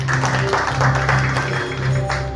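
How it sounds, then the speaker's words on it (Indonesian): A congregation applauds during a Christmas service at a Pentecostal church, a dense patter of clapping mixed with sustained keyboard tones and a faint voice underneath. "Beri tepuk tangan"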